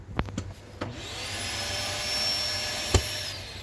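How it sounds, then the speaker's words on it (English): Central vacuum system in a 2020 Cedar Creek Silverback 31IK RV interior, a few knocks and clicks as it starts, then a steady loud whooshing suction roar with a whistling tone that keeps on alone. "you just kick that up, and it'll suck all the dirt and dust and things in it"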